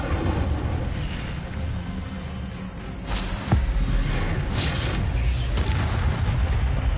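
A fire spell cast in the video game Hogwarts Legacy, with a dense roaring whoosh and a sharp burst partway through amid continuous loud game combat noise.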